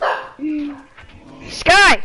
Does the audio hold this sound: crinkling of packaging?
no